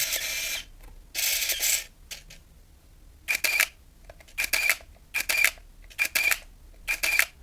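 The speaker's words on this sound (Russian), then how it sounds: "И вот этот звук, он означает, что мало того, что был сделан кадр, за это время еще и перемоталась пленка." Nikon F801 (N8008) 35mm film SLR from the 1980s firing its shutter with motorized film advance: a run of crisp mechanical clicks each followed by a short whirring wind, repeated about six times in a brisk, irregular rhythm, close and alone.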